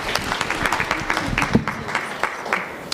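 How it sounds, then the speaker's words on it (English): Audience at an African regional workshop on positive masculinity claps for a speaker, a short burst of moderate, fairly even applause from a room of people. "Let's give him a round of applause."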